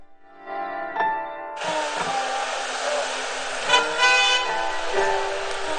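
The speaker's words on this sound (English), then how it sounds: "Give me city traffic noises." AI-generated city traffic soundscape made with Mixlab, starting after a quiet, tonal lead-in: a dense broadband rush of passing vehicles with horn-like tonal blasts and swells, steady and fairly loud.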